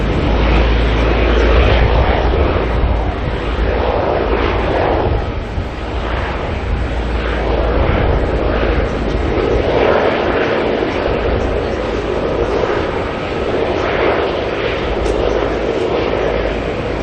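An Antonov An-124 cargo aircraft landing at Auckland Airport produces a loud, sustained engine roar with a broad rumble that swells and eases, heard close and continuous without talk.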